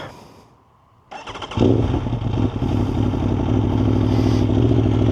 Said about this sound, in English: Carbon exhaust, but the quality, the fit, and the sound so much better.